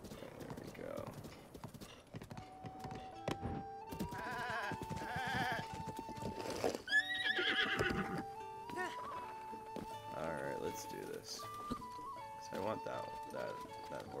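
Horse hooves clip-clop in the video game Breath of the Wild, with whinnies and bleat-like animal calls over game music, while a person talks throughout.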